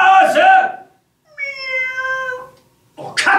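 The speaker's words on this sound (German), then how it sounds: "Oh, Katze." A cat meows once, clearly and close, in a short rising-falling call between two stretches of German talk.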